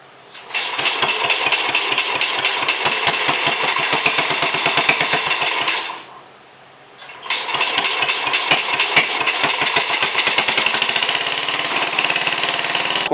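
A small single-cylinder engine on a restored mini bike fires up and runs with a fast, loud, rapid chugging beat, cutting out briefly around the middle before restarting and running steadily again.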